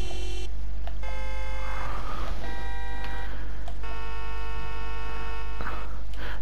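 Ford Shelby GT500 horns in The Crew 2, sounded as a series of sustained electronic honks of differing pitches, each held for a second or so with short gaps, over a constant low hum.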